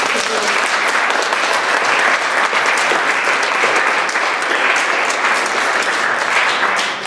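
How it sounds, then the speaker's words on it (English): A full room of listeners gives Tamara a sustained round of applause after a talk on not being a jerk, a dense, steady wash of many hands clapping at even loudness throughout. "We give another round of applause for Tamara."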